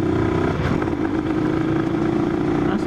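A Honda NSR 150 two-stroke motorcycle idles at a Pertamina petrol station, a steady loud buzzing engine drone with a slight rev bump near the start, close and continuous.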